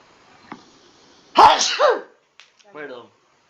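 A single loud sneeze bursts out close by in a quiet room, followed by murmured voices after a short pause.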